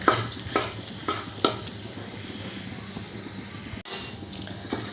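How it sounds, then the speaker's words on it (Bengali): Papad frying in hot oil sizzles and hisses continuously, with bursts of bubbling and occasional sharp crackles close by. "এবার ওই তেলের মধ্যে দিয়ে দিলাম পাঁপড়। পাঁপড়টা ভালো করে ভেজে নেব।"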